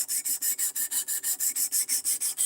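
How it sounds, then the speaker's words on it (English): A knife is sharpened in a basement with fast, evenly spaced rasping strokes, about seven per second, close and steady throughout with no talk. "we're working with this knife tonight. Right now I'm sharpening it."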